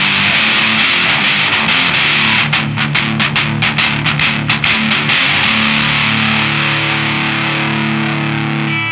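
An electric guitar through a Walrus Audio Fundamental Distortion pedal at low gain plays loud, chugging palm-muted riffs with a burst of choppy staccato strokes mid-phrase before settling into sustained crunchy chords.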